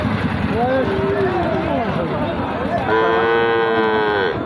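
Native cattle low loudly at a busy cattle market in a long, close, drawn-out moo, with a second rising call near the end, over constant crowd chatter and background engine noise.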